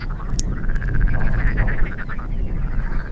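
Frogs croaking across a dried-out wetland meadow by the Wümme, a dense loud chorus of rapid trilling calls with a low rumble beneath and no talk.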